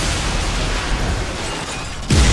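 Explosions go off during a race in the video game Split Second, a dense, steady rumble of blasts that ends with a louder burst near the close.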